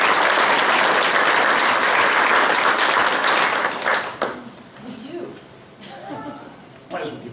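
Graduation audience at a Sierra College campus ceremony bursts into loud, dense applause that fills the first four seconds, then fades quickly into scattered claps and murmuring voices.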